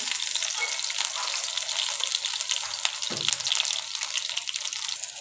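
Pumpkin flower fritters fry in hot oil, a loud, steady, crackling sizzle that runs throughout, with a brief soft knock partway through and no voices.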